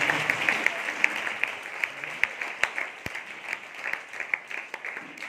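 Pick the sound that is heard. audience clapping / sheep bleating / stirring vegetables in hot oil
audience clapping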